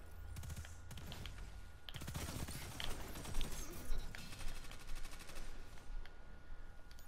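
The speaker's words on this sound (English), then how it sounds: "That's a blade barrage." A blade barrage super attack in a video game sounds as a fairly faint, rapid series of crackling, gunfire-like impacts that build through the middle and trail off.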